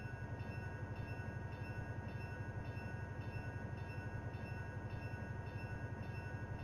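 A train runs at about 30 miles per hour in the Trainmaster 3.2 train simulator game. It makes a quiet, steady engine rumble with an even, rhythmic clicking pulse throughout.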